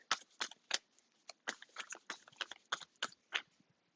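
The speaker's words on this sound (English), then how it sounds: "I barely started shuffling and they're coming out." An oracle tarot deck is shuffled by hand at close range, giving a quick series of crisp card riffles and flicks in short uneven bursts, with no voice over them.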